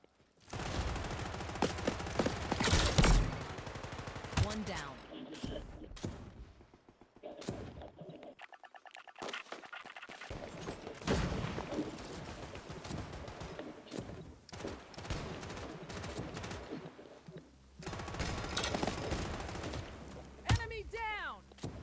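Gunfire in the battle royale game Off the Grid, with repeated bursts of shots and rapid fusillades rising and falling across the clip alongside other game sounds, close and fairly loud throughout.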